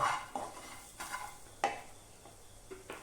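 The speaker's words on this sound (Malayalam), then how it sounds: "അപ്പോൾ അതുകൊണ്ട് മല്ലിപ്പൊടി ഇട്ട് ഒന്ന് ഇളക്കുക" Coriander powder being stirred in a hot pan for chicken masala: a soft sizzle under repeated scraping strokes of a spoon against the pan, with a few sharper clinks of utensil on metal.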